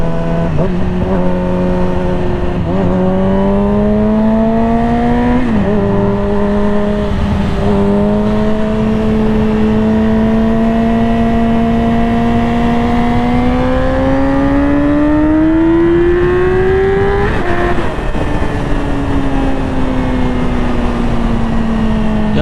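Sport motorcycle engine, a Yamaha R6 or Aprilia RS660, revving hard and climbing through the gears as it accelerates, its loud, steady whine rising in pitch with brief dips at each shift, close and with no talk over it.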